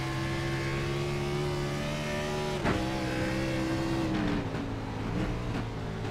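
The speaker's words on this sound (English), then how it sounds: "Great to see these cars on such a run down those straights." Stock cars racing at Brands Hatch, a steady droning engine note that holds its pitch and then dips as a car shifts. Moderately loud with no voices.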